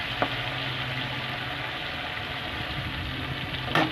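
Food frying in a pan with salt, being stirred: a steady low sizzle runs throughout, with a brief scrape of the spatula near the start and another louder one just before the end.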